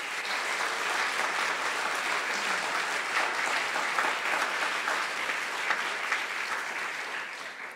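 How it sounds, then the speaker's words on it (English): Sustained audience applause at a Christian school's closing ceremony, a dense, steady clapping from a large crowd that fills the whole stretch without pause. "Please give them a round of applause."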